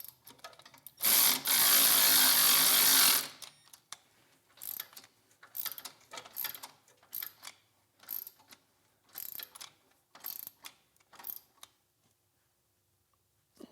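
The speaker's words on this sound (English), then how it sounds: "now we can go back to our lower bolts and tighten them up all the way. Torx 45." A Torx 45 driver tightens bolts on a Maverick crash bar for a Harley motorcycle: a burst of power-tool whirring, then a series of short, close ratcheting clicks in uneven bursts.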